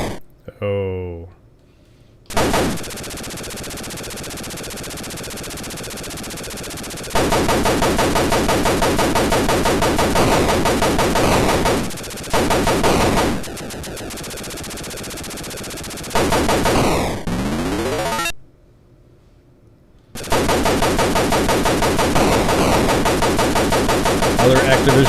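Rapid cannon fire from an Atari 2600 game rattles on in loud, continuous bursts broken by short gaps and sweeping electronic tones, with no voices over it.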